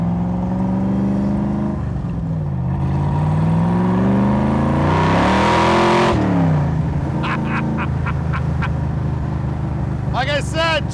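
A 1965 Shelby Superformance Cobra engine revs at half throttle, a loud, close rising and falling engine note with a long climb and sharp drop, followed by idle rumble and someone speaking briefly.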